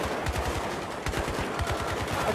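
Rapid automatic gunfire from Battlefield 3 combat, a steady stream of sharp repeated shots at a fast, even rhythm, fairly quiet and continuous throughout.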